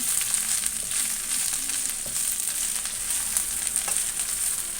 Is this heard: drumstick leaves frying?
yes